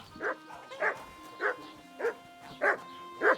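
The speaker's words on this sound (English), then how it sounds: "What are you barking at?" Six evenly spaced barks from a dog in Kingdom Come Deliverance 2, moderately loud and near, with a steady in-game ambient hum between them.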